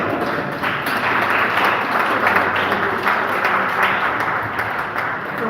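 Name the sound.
audience applause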